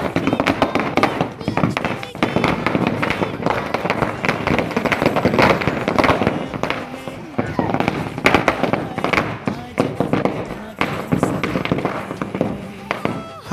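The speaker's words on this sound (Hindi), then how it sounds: "अब जगेगा बहुत बड़ा पटाखा।" Repeated sharp bangs from a large Diwali firecracker crackle over a constant din of excited voices and crowd noise, loud and close throughout.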